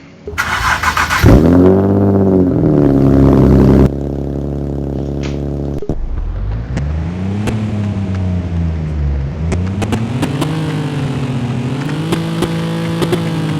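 Nissan six-cylinder car engine in the Driving Empire video game revving loudly and alone, its pitch sweeping up and down in repeated climbs as the throttle is worked, with a brief higher whine at the start.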